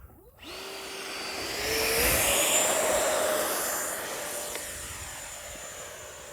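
An E-flite F-16 Thunderbirds 70mm electric ducted-fan RC jet flies by at sunset. A high, whining fan tone starts abruptly, swells to a loud pass with a shifting pitch, then slowly fades as the jet moves away.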